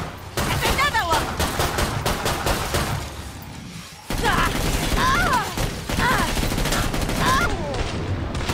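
Heavy gunfire in Killing Floor 2, with dense, close volleys of rapid shots in two long stretches split by a brief lull, plus impacts and a voice speaking over the shooting.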